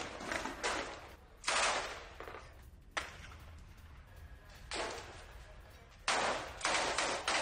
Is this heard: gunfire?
yes